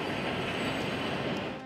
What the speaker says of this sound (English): Now I'm waking up to trains.